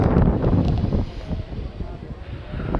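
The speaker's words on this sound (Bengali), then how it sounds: "মনে হচ্ছে হাওয়াটা বেশ ভালো বইছে" Strong wind rushes past a moving Rampurhat–Jasidih MEMU passenger train on a hilly Jharkhand line after monsoon rain, a loud broadband roar with gusty swells from start to finish.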